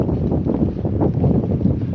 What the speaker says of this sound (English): It's windy, but it's not cold.